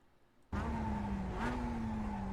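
Mazda Miata engine in the iRacing sim at Laguna Seca, cutting in after a quiet half second and then droning steadily at high revs, with a slight pitch rise partway through, loud and close, no talk.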